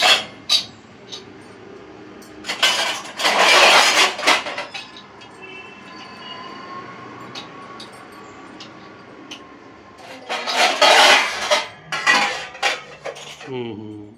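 Washed dishes and pots being stacked and put away in a home kitchen, with loud clattering bursts of metal and ceramic knocking together in two main spells, separated by quieter handling and a faint background hum.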